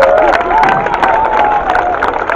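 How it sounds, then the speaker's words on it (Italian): Parents and children at a reading festival flash mob applaud, a lively crowd clapping and cheering close by, with a voice carrying over the noise. "Bambini, allora un altro applauso, lo chiediamo a questi genitori, ma fatevi anche voi un applauso che siete stati bravissimi."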